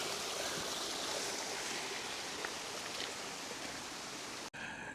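Ice-cold stream water flows near Neuschwanstein Castle in a steady broadband rush, close and continuous, with a brief cut near the end.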